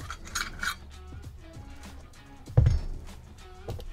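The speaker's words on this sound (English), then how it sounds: "And now we can remove that trigger unit." A trigger unit is pulled from a rifle receiver: soft rubbing and metallic scraping, then a single solid thunk and a later small click, all close and quiet.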